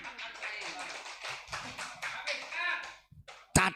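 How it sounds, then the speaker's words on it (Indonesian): An audience at an Islamic sermon claps in scattered, uneven bursts with mixed voices and crowd murmur underneath, thinning out near the end before one sharp loud clap. "Tepuk tangan."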